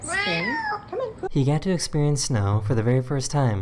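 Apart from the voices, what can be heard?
cat making unusual meowing sound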